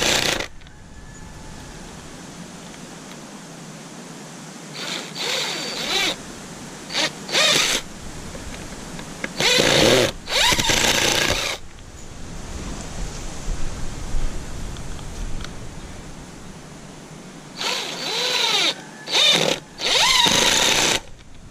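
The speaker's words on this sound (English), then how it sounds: "I'm gonna go ahead and toe screw these in a little bit better with these little galvanized screws I just happen to have." A power drill drives small galvanized screws at an angle into the wood of a garden bed, in several separate whirring bursts of a few seconds each, separated by quieter pauses.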